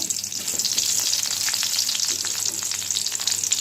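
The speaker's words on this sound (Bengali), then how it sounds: "হালকা একটু লাল করে ভেজে নেব পেঁয়াজটা" Onions sizzle steadily in hot oil in a pan while a Bengali potato and banana-flower curry is cooked, a continuous close, bright frying hiss with no talk.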